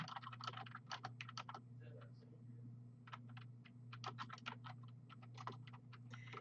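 Someone types on a computer keyboard in quick, uneven clusters of close, quiet key clicks. A steady low hum sits underneath.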